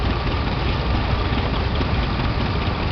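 The petrol engine of a David Brown 900 tractor runs at a steady idle, a loud, close, rough rumble that stays constant throughout with no voices over it.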